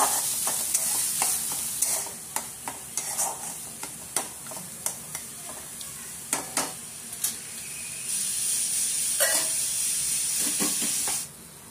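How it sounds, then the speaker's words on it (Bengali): Spice paste for a white chicken korma frying and stirring in a pan: a hissing sizzle under regular sharp scrapes and taps of a spoon, the sizzle swelling louder toward the end before cutting off. "মশলাটাকে জাস্ট 2 মিনিটের মতো কষে নিতে হবে।"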